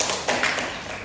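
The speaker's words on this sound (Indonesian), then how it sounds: "Tepuk tangan buat dokter Ika." A brief burst of applause for a doctor, a dense patter of hand claps filling the room, steady and moderately loud throughout the short moment.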